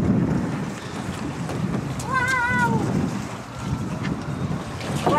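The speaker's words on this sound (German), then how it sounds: "Windet es ein bisschen? Ja, sehr." Wind blowing by the lake at Luino, a steady broadband rush with gusty swells and buffeting on the microphone, while a voice briefly speaks in the middle.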